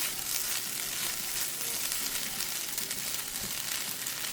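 An egg fries in a pan for shrimp fried rice while being stirred, a dense, close sizzle holding steady throughout with light scraping from the stirring and nobody speaking.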